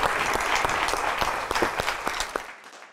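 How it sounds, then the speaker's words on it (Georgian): A studio audience at a televised quiz show applauds, with crisp individual claps standing out from the dense clapping before it cuts off abruptly near the end. "აპლოდისმენტები გავაცილოთ"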